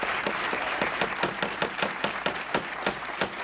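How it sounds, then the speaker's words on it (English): Debate audience applauds a university president, a loud dense spread of clapping with sharp individual claps standing out, no talk over it. "I'm sure that that applause for President Giamatti will not intimidate you."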